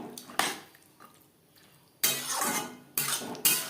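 Chickpeas that have already been boiled are stirred into a masala in a pan, with the spoon clattering against the metal in several bursts. The scraping and knocking comes in short runs separated by quieter gaps, close by and with no talk.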